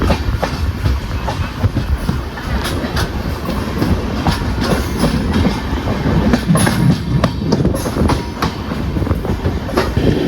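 KSR Bengaluru–Ernakulam Intercity express running at speed on rails, a steady loud rumble with clickety-clack wheel beats and occasional sharp clanks over joints, heard from inside the moving train.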